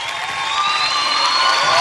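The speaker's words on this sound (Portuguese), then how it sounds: "Recebendo os aplausos da galera" A television studio audience cheers a band, a steady, bright roar of crowd noise and applause that swells slightly over a short stretch.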